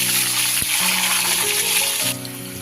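Potatoes frying in mustard oil in a wok give a steady, close sizzle with a hissing, crackling texture that runs throughout and drops slightly in level near the end, with no talking.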